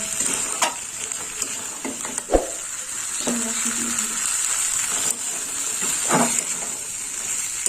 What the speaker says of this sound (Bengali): কড়াইশুঁটি দিয়ে একটু কষে নেব